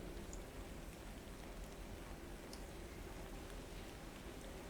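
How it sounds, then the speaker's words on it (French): Steady rain streams down a window pane, a soft, even hiss of falling water that stays faint and constant throughout. "Qui n'a pas été morose en regardant à travers sa fenêtre la pluie qui ruisselle?"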